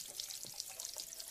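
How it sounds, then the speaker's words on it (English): Leftover bottled water is poured down a sink drain, a faint, steady splashing trickle with soft gurgles, heard alone and fairly quiet. "now let me go ahead and pour the rest of that water down the drain"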